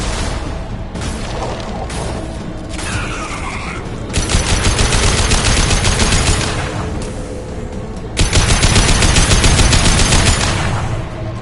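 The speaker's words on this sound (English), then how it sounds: "Firing a high-impact shot!" Heavy weapon fire in the Mass Effect 2 video game, with loud dense bursts of gunfire that come in long sustained waves and short breaks, over mechanical clatter and rumble.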